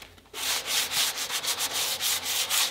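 Sandpaper rubbed back and forth over a wooden reflex deflex bow, giving a quick series of close, rhythmic raspy strokes with no talk.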